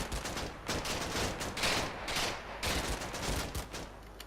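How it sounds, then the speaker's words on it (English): Distant MG42 machine-gun fire in Combat Mission's Normandy battle, repeated rattling bursts rising and falling over several seconds amid battlefield noise, moderately faint. "I think that was an MG42."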